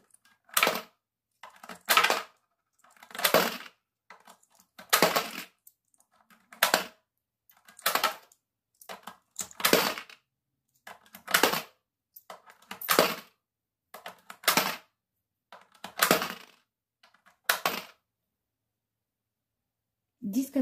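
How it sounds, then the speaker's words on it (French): Repeated metallic clinks of coins dropping into a piggy bank, about a dozen sharp jingling bursts spaced roughly a second and a half apart, close and clear. "Et on va le mettre dans la tirelire."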